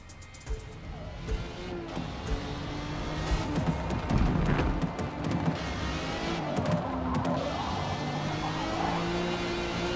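Race car engine fitted with a modified exhaust in the Forza Motorsport racing game, a steady droning engine note with shifting revs running continuously at moderate loudness throughout.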